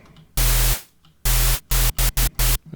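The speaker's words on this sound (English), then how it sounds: "Turn that white noise down." Synthesized white noise from Ableton's Operator synth plays in loud, abrupt bursts of broadband hiss: one long burst, a pause, then a longer burst followed by several short gated pulses in quick succession.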